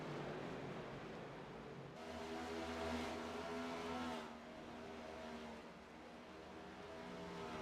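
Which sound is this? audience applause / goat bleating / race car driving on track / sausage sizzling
race car driving on track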